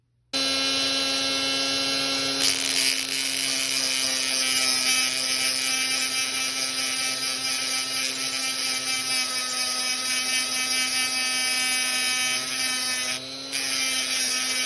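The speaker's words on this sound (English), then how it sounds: "So that's when I'm going to use this grinding tool here." A rotary grinding tool sands a Precious Moments figurine with a steady, high-pitched whine and a strong hum, running continuously and close with a brief dip in pitch near the end.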